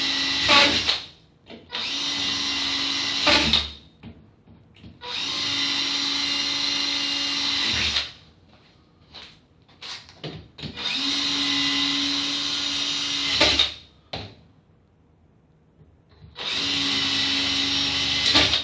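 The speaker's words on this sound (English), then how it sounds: "I'm just going to drill one hole" A power drill whirs loudly in four sustained bursts of a few seconds each, drilling a hole in a door for a lock, with short pauses and small knocks between them, close up.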